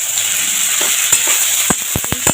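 Bottle gourd tipped into hot spiced oil sets off a loud, steady sizzle, with a quick run of sharp clatters and knocks near the end. No one speaks.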